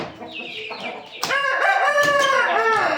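A rooster crows loudly and close by, one long drawn-out call with a rising start and a sustained harmonic tail, following some earlier clucking.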